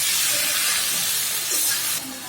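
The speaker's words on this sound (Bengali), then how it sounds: "তো দেখেন আমার লতিটা কষানো হইতেছে।" Taro stolons sautéing in a pan give a loud, steady broadband sizzle throughout, easing slightly near the end, with no voices.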